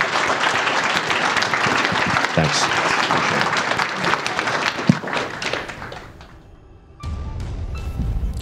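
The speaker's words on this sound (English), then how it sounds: "please give a round of applause" Sustained audience applause at a startup founders' event fills the room, loud and continuous, then thins to a brief lull before another burst of clapping; a short spoken word is heard.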